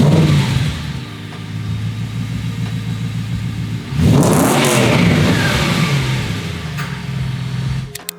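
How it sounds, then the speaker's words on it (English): Close car engine with twin GT4 exhaust boxes, idling with a low rumble, then revving sharply to a loud peak around midway before settling back to a rough idle, no talk. "It's got 2 GT4 exhaust boxes in the back, rather than the singular standard one, which gives it really, really nice noise."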